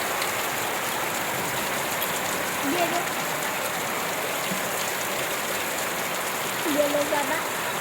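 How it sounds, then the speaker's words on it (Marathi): Steady heavy unseasonal rain with hail pours down throughout, a dense continuous hiss with a few faint background sounds and no clear talking. "खूपच जोरात पाऊस चालू आहे अवकाळी पाऊस होत आहे"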